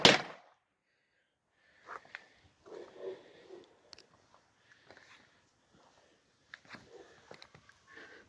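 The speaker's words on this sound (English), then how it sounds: "I definitely heard the other 2 fire off." Firecrackers going off inside a homemade firecracker cannon outdoors: one sharp loud bang at the start, then scattered smaller pops, crackles and bursts over several seconds at close range.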